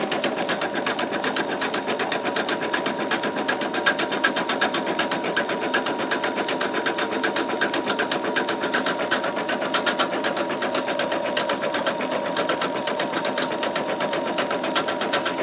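A machine-embroidery sewing head stitches a triple run edge-to-edge design on fabric held in a magnetic hoop, a steady, rapid mechanical chatter running unbroken and fairly close throughout, with no talking.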